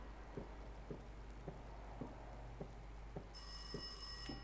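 In the horror game Rise of Insanity, a telephone rings faintly in a regular series of short bell pulses, with a brighter shrill tone joining near the end.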